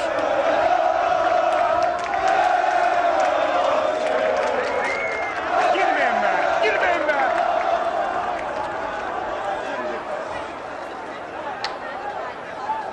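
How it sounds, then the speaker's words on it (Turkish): Fenerbahçe football fans chant loudly and continuously at a team gathering, a dense crowd of rhythmic voices with whoops and scattered cheering, slowly easing off toward the end. "Tezahürat iyice arttı."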